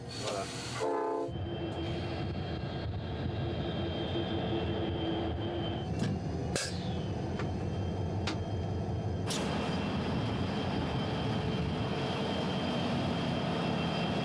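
A long coal freight train rumbles past close by in a steady, continuous roar, with a few sharp metallic clanks and squeals along the way.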